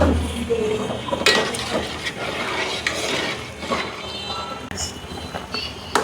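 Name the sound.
fish head being stir-fried in oil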